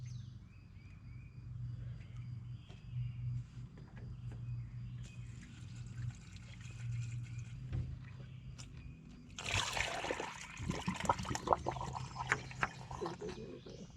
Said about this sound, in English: It pours very fast out of my bucket.